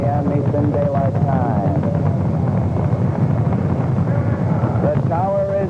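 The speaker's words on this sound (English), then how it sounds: "Apollo 15 lifted from the pad on its way to the moon" The Apollo 15 Saturn V rocket roars on liftoff from the pad, a loud continuous rumbling blast heard under overlapping radio voices from the launch broadcast.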